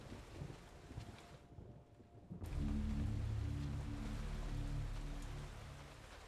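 Rain falling on a cold night in the Eternal Darkness video game: a soft hiss that drops away briefly, then returns as a steady wash over a low droning hum, no talking.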